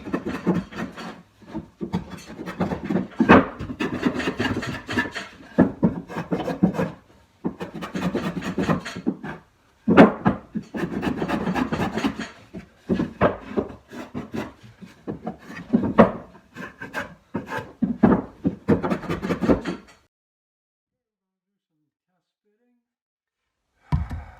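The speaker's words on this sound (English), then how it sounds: "So let's clean these up a little bit and chamfer" Wooden workbench parts for a mortise and tenon bench are chamfered along their edges by hand, with close, repeated rasping and scraping strokes in uneven bursts, then near silence at the end.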